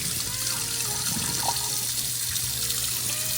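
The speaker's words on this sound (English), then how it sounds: "Rinse, pour that water out," Steady running water from a kitchen tap while oxtails soaked in vinegar water are rinsed and the water is poured off, a continuous close splashing wash with no talk.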